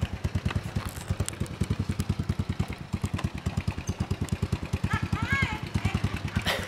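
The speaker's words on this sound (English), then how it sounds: "On the moped." A moped putters along on the ride into town in Funafuti, Tuvalu, its small engine pulsing in a steady rapid rhythm throughout, with people talking over it.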